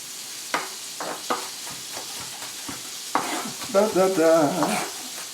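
Onion frying with rice in a pan makes a soft sizzle under spoon scrapes and taps, close by, before a voice begins speaking over the cooking.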